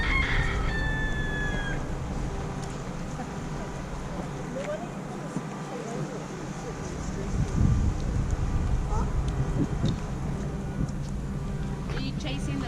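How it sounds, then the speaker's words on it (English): A rooster in Hawaii gives a crowing call near the start, clear but not loud, against wind noise, with people talking in the background. "It is a really pretty rooster."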